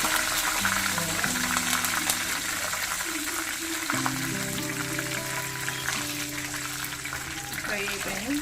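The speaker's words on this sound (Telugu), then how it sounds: "ఫ్రై అయిపోయినాయి." Mustard seeds, cumin, dried red chillies and curry leaves frying in hot oil in a pan, with a dense, continuous close sizzle and crackle under steady low tones.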